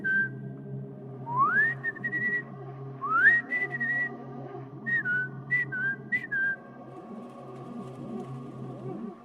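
A person whistles in imitation of birdsong, giving several rising, chirpy phrases and short trills at moderate loudness against a soft steady background hum, with no talking.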